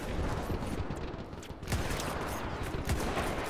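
Gunfire at night in Mount & Blade Warband: a dense, steady crackle of many shots layered with rumbling battle noise, a few sharper close reports breaking through, no voices.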